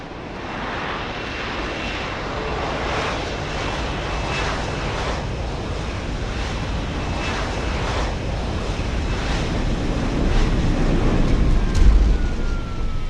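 An aircraft flies over and arrives for a pickup in the Deus Ex video game, a loud, continuous engine roar that builds gradually, with a faint rising whine near the end.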